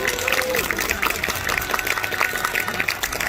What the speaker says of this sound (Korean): 여러분, 독보 형제 씨에게 다시 한번 큰 박수를 부탁드립니다